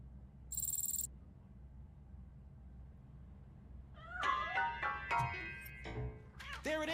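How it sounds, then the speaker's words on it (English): In the video game RoboCop: Rogue City, several short, rising and falling cat meows come in a quick cluster near the end, following a brief high electronic tone and steady low background hum. "That cat must be hiding inside."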